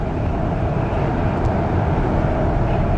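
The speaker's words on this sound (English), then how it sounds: "there's another REM train going the opposite way" An REM light metro train passes in the opposite direction, a steady loud rushing rumble that swells slightly, heard from inside a moving train at speed.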